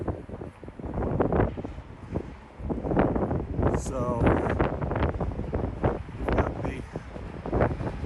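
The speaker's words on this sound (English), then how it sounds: "It's a little windy up here" Wind gusts buffet the microphone in a steady rumble while someone talks over it outdoors, up high in Salt Lake City, Utah.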